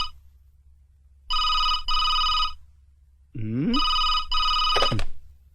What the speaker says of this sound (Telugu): ఫోన్ మోగుతుంటే ఎంతసేపు ఏం చేస్తున్నావు?